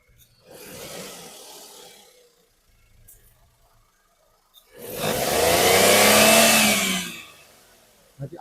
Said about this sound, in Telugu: చాలా సైలెంట్గా నీట్గా ఉంది ఇంజన్ కూడా